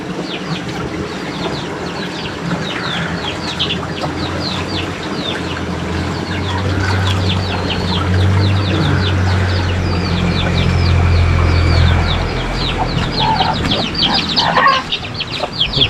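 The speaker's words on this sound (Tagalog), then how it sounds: "bigyan ko yung mga sisiw" A flock of chicks at a rural farmyard feeding spot gives continuous, dense, overlapping peeping and clucking that stays loud throughout, with a low hum underneath.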